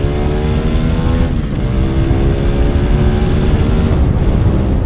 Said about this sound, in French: On va se refaire une petite accélération.